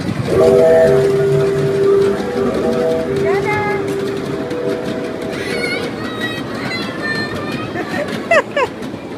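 A passenger train running on rails rumbles steadily, with drawn-out whistle tones sounding early and clattering wheel noise later; people talk over it.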